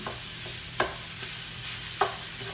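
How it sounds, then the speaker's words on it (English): Ground meat is broken up and sautéed in a pot with a wooden utensil, a steady sizzle underneath two distinct knocks and soft scraping strokes, close with no talk. "using the back of your wooden knife, break up the ground meat"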